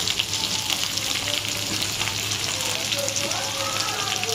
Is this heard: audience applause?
no